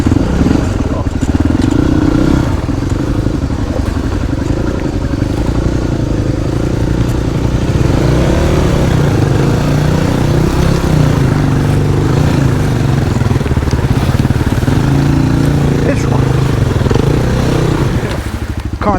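A motorcycle crossing a river, its engine droning loudly and continuously close by, with rough clatter and splashing texture throughout.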